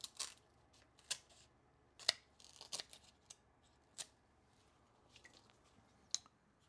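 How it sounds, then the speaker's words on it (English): Scissors snipping brown, dying parts off a houseplant leaf indoors: a series of sharp, quiet clicks and snips at an irregular rhythm, close by, with no talking. "I really want to cut this leaf because it's, like, so ugly. Maybe I'll cut the brown parts."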